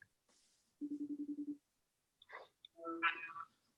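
A phone call rings out: a short burst of evenly pulsed ringback tone, then a pause and a few clicks and tones as the line connects, all fairly faint.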